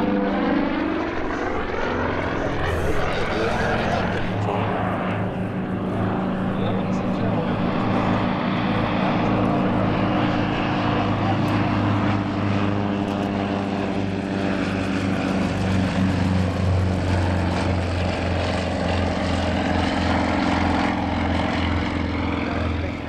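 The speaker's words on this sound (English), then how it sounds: "The aircraft the team are flying is the Yak-55M, a Russian-built single-seat aerobatic aircraft" A Russian-built Yak-55M single-seat aerobatic propeller plane flying display at the EAA AirVenture Oshkosh airshow, its engine droning loud and continuous with shifting pitch throughout, a voice speaking over it.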